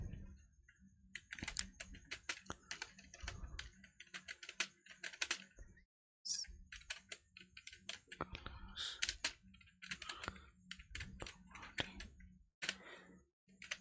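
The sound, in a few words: typing text on a computer keyboard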